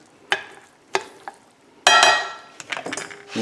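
Pasta tossed with extra virgin olive oil and broccoli in a pan, heard as a few sharp utensil clinks followed by a louder burst of scraping and sizzling stirring, close and alone.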